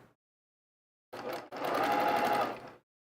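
A sewing machine stitches quilt fabric at high speed, a brief burst followed by a longer steady run of fast, even whirring, close up and without talk.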